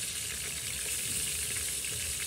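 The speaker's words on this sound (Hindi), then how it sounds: "अच्छे से इसको भून लें।" Ginger garlic paste, two spoonfuls, frying in a pan with salt for chicken biryani, giving a steady, loud, continuous hiss and sizzle throughout, with no talking.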